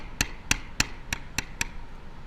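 Sharp strikes of a hammer or mallet on a leather tooling bevel from a beginner's deluxe starter kit, six crisp close taps spaced about a third of a second apart, with no talking.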